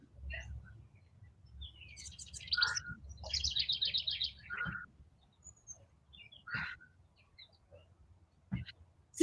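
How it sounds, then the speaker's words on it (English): Birds chirping and tweeting outdoors, heard through an open window: several bursts of bright, warbling calls, moderately close, over a low steady background rumble, with no one talking. "I can't tell whether those are your birds or my birds."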